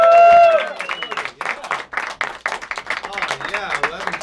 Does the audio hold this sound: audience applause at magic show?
yes